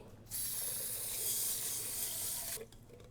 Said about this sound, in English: Let's wash rice so I can prepare.